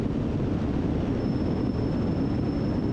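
Small propeller airplane in flight, a steady droning engine hum with a faint high whine, continuous and even, heard from inside the cabin with no talk.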